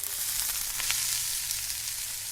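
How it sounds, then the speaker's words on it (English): Onion, celery and bell pepper trinity hitting hot oil in a cast iron pot for jambalaya, giving a steady, close broadband sizzle with crackling pops throughout, no voices. "It's a nice sizzle."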